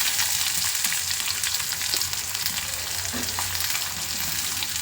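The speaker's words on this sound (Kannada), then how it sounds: "ಹಸಿಮೆಣಸಿನ್ಕಾಯಿ ಖಾರ ಎಲ್ಲ ಬಿಟ್ಕೊಂಡ್ಮೇಲೆ ಈರುಳ್ಳಿ ಹಾಕ್ಕೊಳ್ಳೋಣ." Green chillies and onions frying in a pan, a dense continuous sizzle held close and steady throughout, with no voices.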